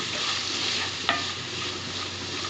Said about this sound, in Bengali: এখন মশলার সাথে নেড়ে চেড়ে মিশিয়ে নিচ্ছি